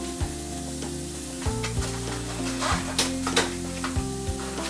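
Food cooking slowly in a pan over lowered heat, giving a steady soft sizzle with occasional light clinks of a pan or utensil, close and moderately quiet.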